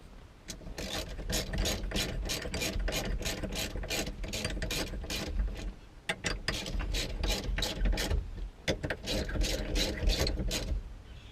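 A ratchet wrench tightens bolts during a steering wheel install on an OBS Chevy truck, giving fast, steady clicking strokes in close, quiet bursts with a short pause midway.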